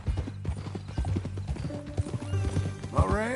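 Horse hooves clip-clop steadily on a 1845 Western ranch-era setting, with a horse's whinny rising near the end over a continuous low hum and faint mechanical creaks.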